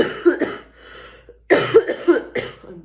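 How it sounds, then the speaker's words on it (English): A person coughing in several harsh bursts: a cluster of two or three coughs, a pause, then a louder run of three or four more, close and dry with no talking. "I'm so sorry about the coughing, guys."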